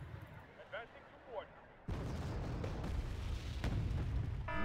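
Artillery fire in a tank video game: a heavy boom that sets off a sustained loud rumble, with someone speaking in the quieter moment before the blast.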